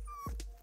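A puppy gives a single short, close whimpering yip over a low background hum.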